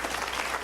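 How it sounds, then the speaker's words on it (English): Audience applause for the Honorable Louis Farrakhan, a brief dense burst of steady clapping from a crowd, no voices over it. "Let's give the Honorable Louis Farrakhan a round of applause."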